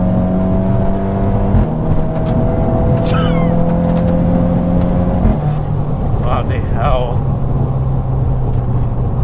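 A tuned Volkswagen Scirocco R Stage 2 accelerates hard from inside the cabin, its engine note rising in steady pitch steps through the gears, loud and continuous beneath excited talk.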